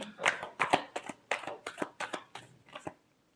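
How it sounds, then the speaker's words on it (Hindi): Tarot cards are shuffled close up in a quick series of riffling, flapping bursts that slow and stop, leaving a moment of silence. "last shuffle"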